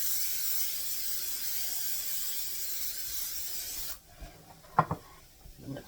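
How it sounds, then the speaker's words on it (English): A steady hissing spray of cooking spray from an aerosol can into an 8x8 pan lasts several seconds, then stops, followed by a few soft clatters and knocks. "you're going to spray it well"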